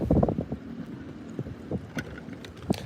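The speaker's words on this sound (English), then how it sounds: "So, yeah, the wind, it's a little choppy out here" Wind buffeting the microphone on a bass fishing boat over choppy water, gusty rumbling bursts with faint splashing and hull knocks, fairly close and no talking.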